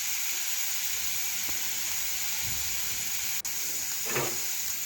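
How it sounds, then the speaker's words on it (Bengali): Young pointed gourds (potol) frying in oil in a pan, a steady close hiss and sizzle throughout, with a brief clack and some stirring scrapes near the end. "আগে আমি পটলগুলো ভেজে নিই"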